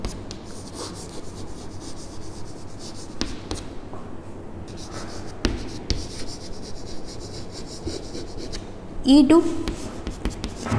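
Chalk or marker scratches and taps across a classroom board in short strokes during a probability lecture, close and moderately loud, mixed with a teacher talking.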